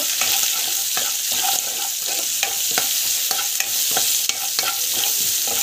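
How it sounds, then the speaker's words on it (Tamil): Onions, curry leaves, asafoetida and rock salt sautéing in a pan, a loud close sizzle broken by regular scraping strokes of a stirring spoon throughout, with no speech. "நல்லா அப்படி வதக்கிக்கோங்க"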